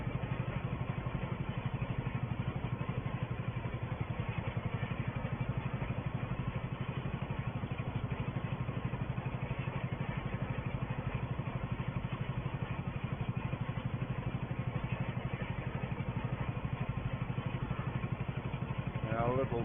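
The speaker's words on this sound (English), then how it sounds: "Our little Porsche tractor" A small Porsche tractor rolls grassland at Attingham Park in 1964, its engine chugging in a steady, rhythmic idle-like putter that continues evenly at moderate distance, with someone narrating over it.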